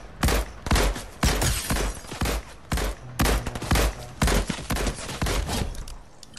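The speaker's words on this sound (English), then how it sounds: "there's people shooting at me." Rapid gunfire in a multiplayer shooter game, a dense string of sharp shots in uneven bursts that repeat close together for several seconds, loud and without talk.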